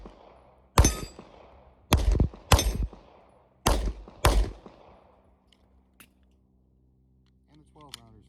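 A rifle fitted with a Votatu PMD505 sight fires during an endurance test, giving five loud, sharp shots with trailing echoes at uneven spacing, followed by quiet and a brief voice at the end.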